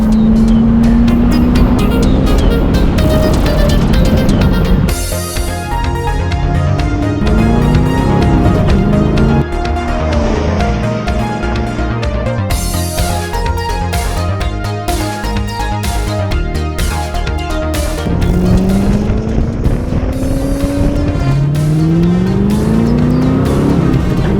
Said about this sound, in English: Overall, the Z51 is very satisfying to drive on track.